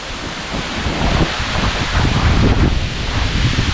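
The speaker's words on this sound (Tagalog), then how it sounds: "Welcome sa Balangkikog Falls!" Steady, loud broadband roar of rushing water from Balangkikog Falls in Baungon, Bukidnon, with heavy wind buffeting the microphone throughout, no voices.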